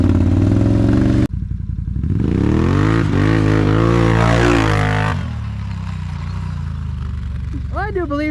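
A Can-Am Renegade 1000 ATV engine revs hard as the machine pops a wheelie, a loud close roar climbing in pitch and then easing off to a steadier drone.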